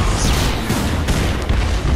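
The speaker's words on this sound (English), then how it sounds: "Oh, the explosions." Loud, rumbling explosions from the video game Super Exploding Zoo fill the clip, a continuous roar of booms with a few sharper bursts breaking through.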